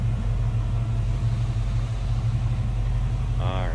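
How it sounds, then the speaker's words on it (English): The 350 V8 engine of a 1964 Chevrolet Nova Chevy II idles with a deep, steady low rumble, close and loud, with a brief voice near the end. "Nice little rumble coming out of that 350."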